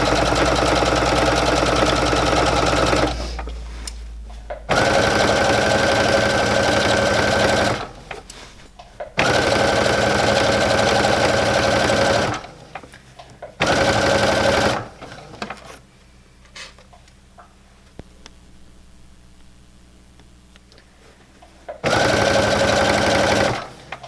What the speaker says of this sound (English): I'm sewing about just under an inch, about 5/8 seam allowance